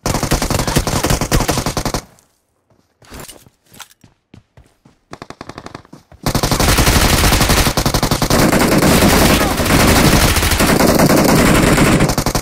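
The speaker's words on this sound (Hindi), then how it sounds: "तभी मुझे गन फायर का साउंड आता है" Sustained automatic gunfire in the mobile battle royale game BGMI, loud and dense bursts broken by a short lull of scattered single shots before a long, heavy continuous volley.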